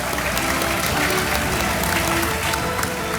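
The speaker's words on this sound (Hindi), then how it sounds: "एक बार फिर तालियों के साथ प्रद्युत और दिनेश का बहुत बहुत स्वागत" Studio audience applause greeting guests on a Hindi TV talent show about young basketball players, a steady, dense clapping wash that fills the whole stretch at even loudness with no speech.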